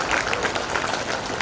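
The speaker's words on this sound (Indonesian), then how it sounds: "Aplaus untuk Universitas Pancamarga Probolinggo" Brief burst of audience applause at a Universitas Panca Marga Probolinggo graduation ceremony, steady clapping of a seated crowd heard from a distance.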